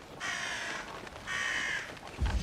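In the video game Atomfall, a crow serving as an intruder alarm gives two long, rasping caws in a row, close and loud, followed by a brief low thump.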